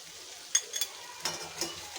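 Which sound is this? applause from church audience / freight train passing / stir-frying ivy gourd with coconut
stir-frying ivy gourd with coconut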